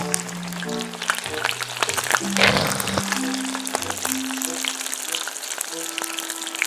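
Breaded freshwater fish deep-frying in hot oil, a dense continuous sizzle and crackle that swells briefly partway through, close up with faint tones in the background.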